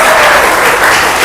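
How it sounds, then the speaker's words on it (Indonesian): Loud, dense applause from a classroom of students clapping for a classmate during a micro-teaching lesson, a close, continuous burst of many hands. "Tepuk tangan, beri aplaus untuk teman kalian."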